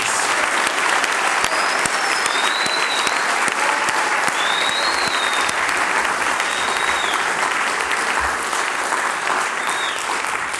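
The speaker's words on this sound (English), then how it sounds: "Please give them a loud round of applause." A loud, sustained round of applause from a ceremony audience honoring young men elevated in rank at an academy capping ceremony, dense and even throughout, with a few faint whistles riding over the clapping.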